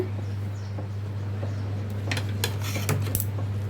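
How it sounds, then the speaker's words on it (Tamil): A wooden spoon slowly stirs a thick batter in a pot over a low steady hum, with soft scraping and a few light knocks against the pot growing slightly busier toward the end. "ஒரு கட்டை கரண் கரண்டி வச்சு இப்படி மெதுவாக கிண்டுறேன்"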